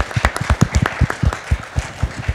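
Audience clapping for the speakers at the close of a talk on designing for a future of care; a modest room of individual hand claps, distinct and close, in an uneven rhythm without voices.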